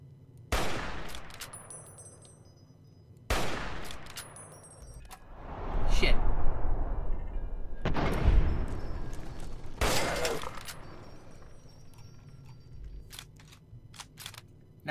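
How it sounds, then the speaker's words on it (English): Several loud, sharp gunshots with echoing decay from the video game Fallout: New Vegas, spaced a few seconds apart amid rumbling ambience and no talk. "We're going to piss it off with a shot to the face."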